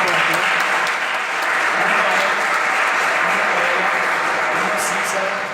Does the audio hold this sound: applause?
yes